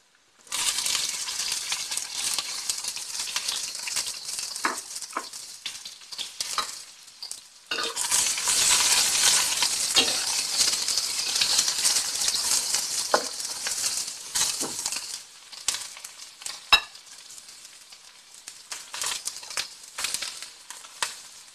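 Sliced onions sizzle steadily in a hot pan while a utensil scrapes and stirs them, with sharp clinks against the metal and a louder burst of frying midway; no one speaks.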